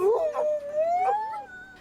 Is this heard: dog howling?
yes